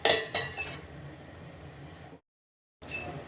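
A metal lid clatters twice onto a pot of water heating for pithla, two sharp close clanks followed by a low steady hiss from the stove, then a brief cut to silence before the hiss returns.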